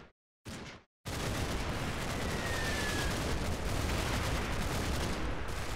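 Two-inch mortar fire in the World War II game Combat Mission, heard as a couple of short bursts followed by a long, dense, continuous roar of distant explosions and gunfire rumbling on without a break.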